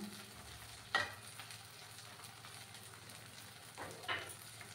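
Chopped onions and tomatoes frying in a pan, a faint steady sizzle broken by two brief louder bursts of stirring, with no voices.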